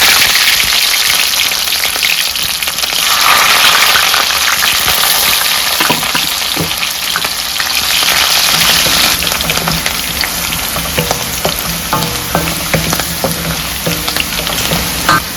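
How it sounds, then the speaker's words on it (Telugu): Sliced onions sizzle and crackle steadily in hot oil for a pepper rasam tempering, a dense, close frying hiss with occasional stirring taps, no voices. "ఉల్లిపాయలు వేగిపోయినాయండి"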